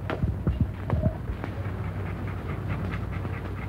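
A dog panting inside a gift box, quick rhythmic breaths with a few soft thumps and whimper-like bursts early on, close and fairly steady over low background noise.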